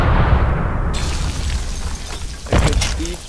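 A C4 charge detonating in the Deadpool game, a loud close blast whose rumbling roar fills the clip, followed by a second sharp burst of debris later on.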